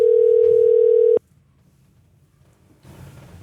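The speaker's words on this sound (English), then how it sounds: "Let's give her a phone call." A steady telephone dial tone hums loudly for about a second before cutting off abruptly as a call is placed, leaving quiet line noise and then a faint rise of connection sound.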